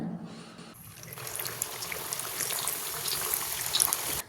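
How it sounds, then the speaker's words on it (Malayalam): Puff pastry pieces dropped one by one into hot oil bubble and hiss, the frying rising from a quiet start into a steady, close crackling sizzle with scattered pops. "ഇനി നമ്മൾ നന്നായിട്ട് ചൂടായിട്ടുള്ള എണ്ണയിലേക്ക് ഇതൊന്ന് ഓരോന്നിട്ടെടുത്തിട്ട് ഒന്ന് ഫ്രൈ ചെയ്തെടുക്കാവുന്നതാണ്"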